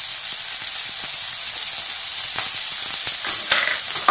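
Onions and curry leaves sizzle and fry in a hot pan, a steady close hiss with small crackles and pops, no voices over it.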